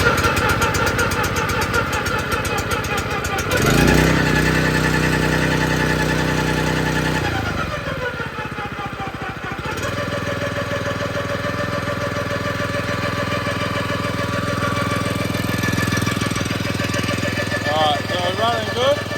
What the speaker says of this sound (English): let's start it up for the first time. Choke on, fuel on.